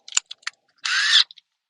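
A few quick clicks followed by a short, sharp burst of a power drill whirring close up as it drills diamond plate steel, then a couple of faint ticks.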